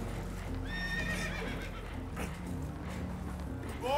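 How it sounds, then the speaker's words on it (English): Spooked horses whinny and neigh in the video game Red Dead Redemption 2 aboard a damaged boat that is taking on water. A high neigh comes early and another rises sharply at the end over a low rumbling ambience. "Horses are spooked, and we're taking on water."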